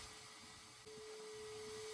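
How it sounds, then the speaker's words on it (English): A vacuum cleaner sucks caked mud out of car interior trim, a steady close whine with a tone that shifts up partway through; no voices. "So yay, more vacuuming."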